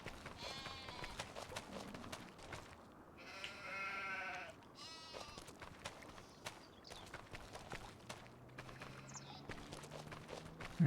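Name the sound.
sheep bleating in video game Farming Simulator 25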